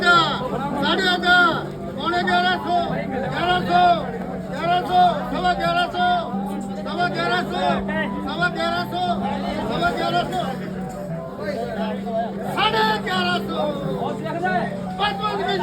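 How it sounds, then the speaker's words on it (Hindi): Dense crowd chatter at the Malakhera onion mandi during auction bidding, many overlapping voices calling out bids close by, steady and busy throughout with no break. "आप देख सकते हो इस प्रकार बोली लगती है।"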